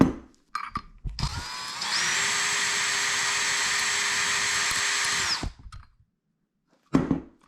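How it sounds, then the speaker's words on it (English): A cordless drill drilling into a plastic shower head whines steadily for a few seconds at close range, preceded and followed by brief clicks and handling noises. "And then just take your cordless drill."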